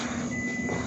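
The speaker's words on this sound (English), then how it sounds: "I hear that beeping." A truck's reversing alarm sounds from outside a back patio, a steady electronic tone heard across a brief, fairly loud moment.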